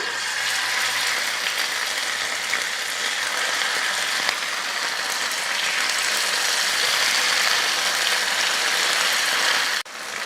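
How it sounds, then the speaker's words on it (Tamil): Masala-coated fish frying in hot oil in a pan makes a loud, continuous, dense sizzle with crackling spatter that holds steady for ten seconds, briefly dipping near the end, and no one speaks. "எண்ணெய் நல்லா காஞ்சிருச்சு இப்போ மீன் வச்சு பொறிச்சிக்கலாம்"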